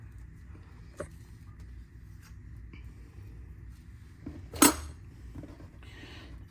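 Faint clinks and taps of dishes and utensils while a garlicky marinade for lamb karahi is mixed in a bowl in a kitchen, a few sparse knocks and one sharper clatter.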